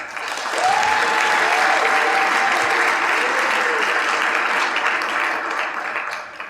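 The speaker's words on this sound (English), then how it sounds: "So a round of applause for our sponsors, please" Loud, sustained applause for sponsors at a Hispanic Heritage Month luncheon, dense crowd clapping throughout with a few faint whoops mixed in.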